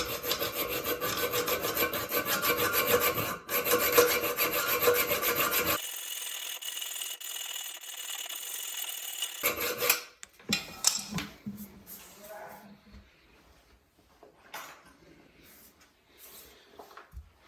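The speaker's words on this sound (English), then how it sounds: "we're going to go ahead and cut our bolt off so we can put this cap on and be finished" A toilet bolt is cut with steady rasping back-and-forth sawing strokes, close and moderately loud, before the strokes stop and scattered clicks, taps and light handling noises follow.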